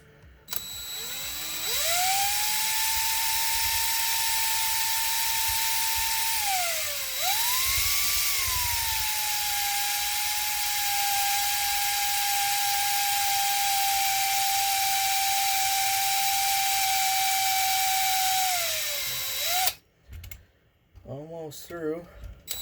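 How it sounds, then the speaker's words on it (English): A power drill bores a hole into a Fractal Node 202 computer case, its motor whining steadily for about eighteen seconds with a brief dip in pitch midway, loud and close, before stopping near the end. "Drill a hole here."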